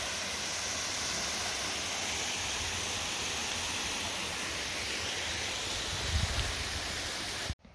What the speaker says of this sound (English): Two little waterfalls.